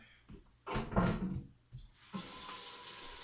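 Tap water runs into a bucket at a sink in a soap-making kitchen: muffled knocks and handling noise come first, then a steady, close hiss of running water fills the rest.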